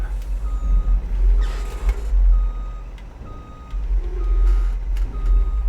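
A truck in Farming Simulator 22 reverses with an evenly spaced electronic beeping, loud and near, over a low diesel engine rumble and the hiss of air brakes.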